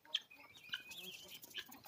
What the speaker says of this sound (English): These, of course, are all the rooster family and the guinea fowls.